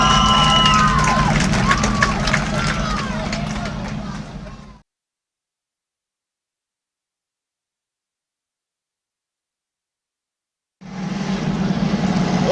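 A speedway crowd cheers for a race winner in a loud, broad roar of voices with engine noise underneath. The sound cuts to dead silence for several seconds, then the cheering returns.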